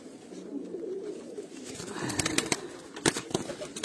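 Soft pigeon cooing comes from a fancier's loft in rural Punjab, with a burst of sharp wing claps and rustling flaps near the end.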